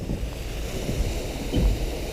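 Waterfall splashing over rock work beside a log-flume style water ride at Bobbejaanland theme park, a steady close rushing wash with low rumble and wind buffeting the microphone, no talking.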